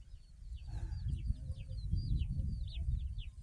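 Chickens cluck at a rural Thai homestead, with a run of quick high-pitched calls over a steady low rumble of background noise, fairly faint and without talk.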